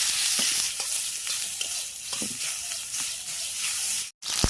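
Cumin seeds, a torn leaf and paste fry in hot oil with a loud, constant hiss and sizzle, broken by soft scraping stirs, close up and without voices, cutting out briefly near the end.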